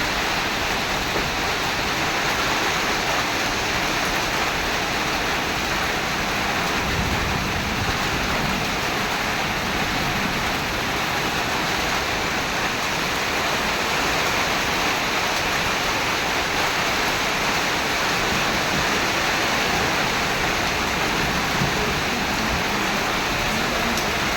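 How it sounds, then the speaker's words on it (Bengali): Steady, dense rain hissing continuously at close range with no pauses, loud and even throughout, no voices. "বৃষ্টি শুরু হয়ে গেল"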